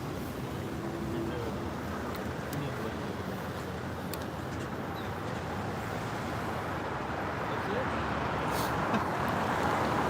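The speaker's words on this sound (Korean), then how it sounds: "이렇게 차 소리가 계속." Car traffic rumbles continuously outside the presidential office, a dense steady roadway roar with a faint engine hum throughout, and voices murmur intermittently over it.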